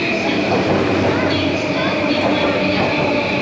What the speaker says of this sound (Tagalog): Oh, ito na yung train natin.